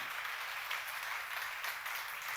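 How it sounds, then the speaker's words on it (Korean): Steady applause from a church seminar audience during a lecture on Nehemiah, a continuous wash of many hands clapping at moderate distance, with no break across the short stretch. "빨리 박수 하세요"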